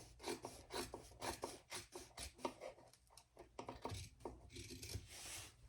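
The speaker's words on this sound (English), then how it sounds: "I'm just going to trim that off." Sewing pattern material is trimmed away in a series of quiet, close rasping cuts and rubs, irregular bursts of scraping with brief pauses between them.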